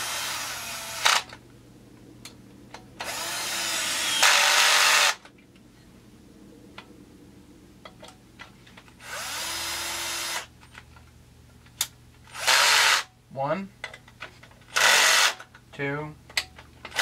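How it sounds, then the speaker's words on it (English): A power drill drives screws into the handle of a Husqvarna 372XP chainsaw while heated handles are fitted, in several loud whirring bursts of a second or two separated by pauses, with someone talking between them. "So let's put three screws down here with some blue Loctite."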